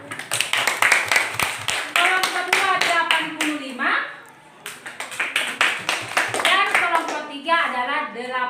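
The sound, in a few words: classroom applause, children clapping hands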